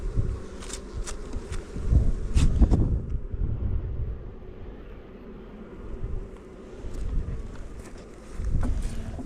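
Honey bees swarm around a beehive in a garden ornament in Norfolk, a dense continuous buzz with passing swells as individual bees fly close by, steady and fairly loud with no talking.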